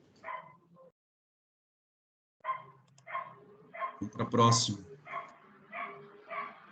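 Several short barks from a dog, loud and near, broken by pauses, with someone speaking Portuguese alongside and between them.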